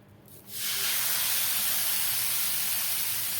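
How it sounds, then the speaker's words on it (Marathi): A loud, steady sizzle bursts up as dhapate flatbread is laid on a hot oil-greased griddle, the hiss holding strong and even after a quiet start. "आणि आता हे धपाटे तव्यावर सोडायचे आहे"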